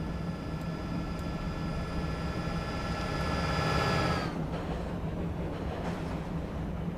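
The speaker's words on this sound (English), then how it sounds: "You got a freight train there." A freight train passes on Metro North track along the Northeast Corridor in the Train Sim World game. A loud, steady rumble carries a whining tone that drops in pitch midway as the train goes by.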